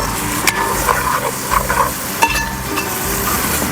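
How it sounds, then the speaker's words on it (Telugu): Oil sizzles steadily as ingredients fry for an Andhra-style Pandugappa fish curry, with occasional stirring and soft clinks of a utensil against the pan, close and continuous. "ఇలా మంచిగా ఫ్రై అవ్వాలన్నమాట."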